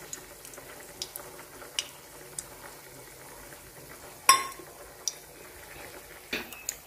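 Oil heats in a pan for a fish curry with a mustard-greens vegetable, giving a faint steady sizzle broken by sharp clinks and clatters of a utensil against the pan.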